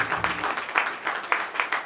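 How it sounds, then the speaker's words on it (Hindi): Short burst of audience clapping at a poetry gathering's annual celebration, fairly close and loud, with individual claps pulsing in an uneven rhythm. "तालियां बजनी चाहिए।"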